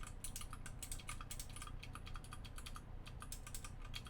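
Typing on a Klippe mechanical keyboard fitted with Phoenix switches, Aristotle clones, gives a fast, continuous patter of crisp clacks at close range, with no voices.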